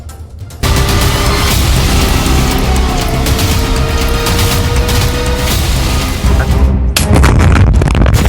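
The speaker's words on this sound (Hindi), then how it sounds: "पहला धमाका," A heavy, roaring blast of a military strike in the Israel–Hamas conflict rumbles on continuously for several seconds, loud and close, with a brief dip before another surge of booming noise near the end.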